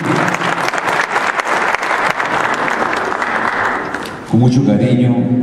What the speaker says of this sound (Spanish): Vamos a empezar primero a un fuerte aplauso a Cristo, ¿qué tal?